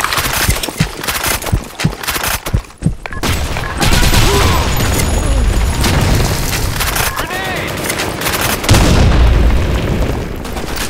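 Loud, repeated booms and crackling blasts from grenades going off in the online shooter Blackshot, layered into continuous dense gunfire, with players shouting over the chaos.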